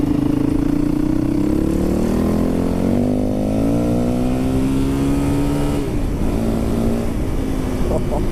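2003 Yamaha WR450F motorcycle engine on the move, a loud close exhaust note rising and falling as the rider works through gears and throttle, with a dip and pickup near the middle of the run.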